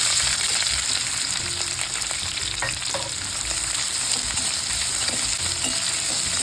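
Chopped onion hits hot oil for a spicy Solapuri usal, giving a steady, close sizzle with occasional stirring clicks and no talking.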